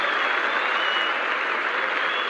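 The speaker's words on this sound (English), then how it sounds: "Applause from Richards." A cricket crowd at a 1981/82 World Series Cup match applauds in a dense, continuous wash of clapping that holds steady throughout, heard from a distance across the ground.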